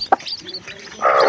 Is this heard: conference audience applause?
no